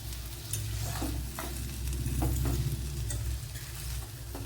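Millet noodles tossed with masala in a pan give a continuous low sizzle, with repeated scraping and stirring knocks as they are mixed, no voices.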